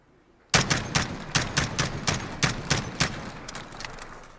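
An SR-25 semi-automatic rifle fired from the prone position in Call of Duty Modern Warfare lets off about ten sharp, loud shots in a quick, even rhythm after a brief silence, each with a short ringing tail.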